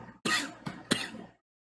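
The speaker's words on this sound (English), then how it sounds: "This weed got me fucking coughing like crazy." A person coughs after smoking weed, starting with a harsh cough, then a short hack and a throat-clearing burst, close and loud, followed by silence.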